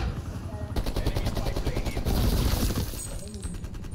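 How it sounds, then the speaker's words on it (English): An attack helicopter in the video game Black Ops Cold War gives a rapid rotor chop mixed with bursts of gunfire and breaking sounds, loud and close, while players talk over it. "Fucking attack chopper."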